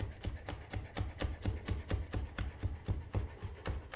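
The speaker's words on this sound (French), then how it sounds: "Donc j'ai pris 3 anchois, je vais les hacher" A knife finely chopping anchovies on a board, a quick, steady run of soft close taps at about three per second, continuous and fairly quiet.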